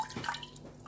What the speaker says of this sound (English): add the water to my lentil